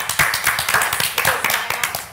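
A small studio audience gives a brief round of clapping in tribute to a singer, with close, loud, irregular individual claps lasting only a couple of seconds.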